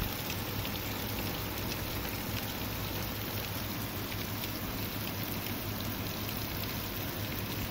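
Steady rain falls during a thunderstorm, a dense, even hiss of drops on surfaces that continues unbroken throughout, with no voices.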